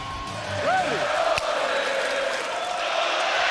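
An Irish crowd cheers at a lightweight fight, a loud, broad wall of roaring voices with whoops and shouts rising out of it, plus one sharp knock in the middle.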